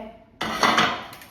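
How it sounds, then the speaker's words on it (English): Metal cooking pans grabbed and knocked together in a home kitchen before cooking steak and salmon, giving a sudden loud clatter that rings on briefly and then fades, with no talking. "grab the pans"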